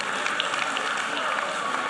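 Audience at a magic night performance applauding themselves, a steady even wash of clapping from a crowd, moderately distant and fairly soft.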